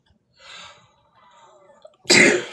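After a faint indrawn breath, a single loud, explosive sneeze bursts out close to the microphone.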